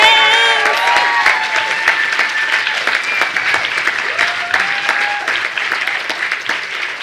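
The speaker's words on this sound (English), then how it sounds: "Can we give it a round of applause for all the participants?" A live poetry and stand-up audience applauds the performers, loud dense clapping with a few cheers and whistles over it, sustained throughout and fading slightly toward the end.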